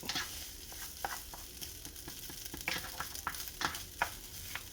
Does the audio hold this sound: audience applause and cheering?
no